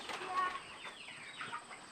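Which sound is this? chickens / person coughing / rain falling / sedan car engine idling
chickens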